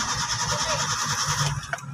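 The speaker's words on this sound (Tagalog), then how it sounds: "Try natin i-start kung aandar si Ion." A Hyundai Eon that had been submerged in floodwater is cranked with a fast, steady mechanical churn and does not catch, cutting off abruptly near the end. It sounds close and loud.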